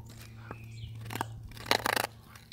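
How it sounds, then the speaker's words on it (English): A Siberian husky gnaws on a huge bone, with close, loud crunching bursts, the heaviest cluster near the end, over a steady low background hum. "Listen to those crunches."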